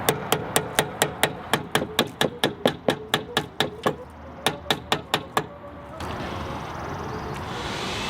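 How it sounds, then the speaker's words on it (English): A hammer tapping a brake pad holder into place on a Jeep SRT during a brake pad and rotor job: about twenty sharp, evenly spaced metallic taps in two bursts, close and loud, followed by a low steady hiss. "could just tap it in with a hammer"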